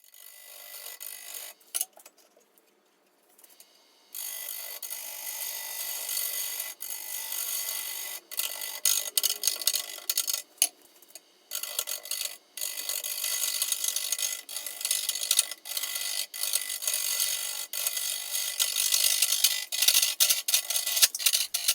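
An oak burl set in resin spins on a woodturning lathe while dull carbide cutters take light cuts, giving a harsh, continuous scraping rasp with brief gaps and a short pause near the start, heard close and alone.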